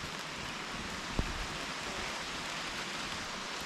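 Steady rain falls around a truck camper at an off-road campsite, a soft continuous hiss with one small tap partway through; no voices.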